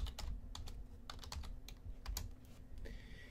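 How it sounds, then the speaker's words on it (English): Login typed on a computer keyboard, quick irregular clicks of keys close by and fairly quiet, alone with no voices. "Type in your login, which is your student ID and your password."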